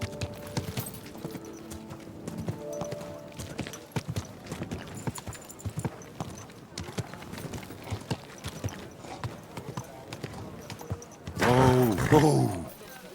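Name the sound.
horse hooves clip-clopping in Kingdom Come Deliverance 2 video game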